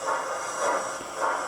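Model Black 5 steam locomotive running along new layout track, a steady close rolling hiss and rumble with faint rhythmic pulsing and no talk.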